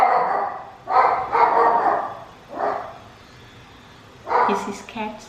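A dog barks up close: several loud, sharp barks in irregular bursts with brief pauses between them, and people talking in between.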